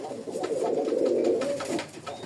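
A desi golla pigeon coos up close in a soft, rolling, low call that swells and fades over about two seconds, alone and clear.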